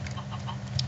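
Brief chicken clucks in the Minecraft video game, a few short bird calls in quick succession over a low background hum, lasting under a second.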